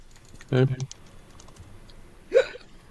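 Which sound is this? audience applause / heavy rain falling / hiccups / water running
hiccups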